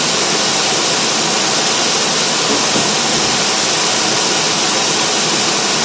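A kitchen range hood fan running at high speed above a stove where lardons are cooking, a loud, steady broadband whoosh that fills the room without pause.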